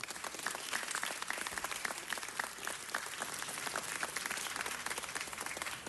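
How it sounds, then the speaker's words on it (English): Audience applause for students honoured for lifelong reading at an awards event, dense continuous clapping from a crowd, steady and moderately distant throughout. "give them a round of applause for their commitment to lifelong reading"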